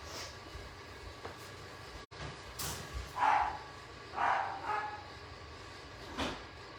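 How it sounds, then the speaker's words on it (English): Dog barking indoors, several mid-loud barks in two or three short clusters, somewhat distant over a steady low background hum. "see if that stops the barking"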